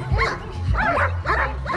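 A German Shepherd barks fiercely during a defense demonstration at a dog show, rapid repeated loud barks in quick succession, close and aggressive, with brief whining edges between them.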